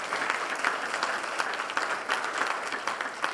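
An audience at an annual regional economic forecast event applauds steadily, a continuous wash of many hands clapping at moderate volume from a distance, without pauses.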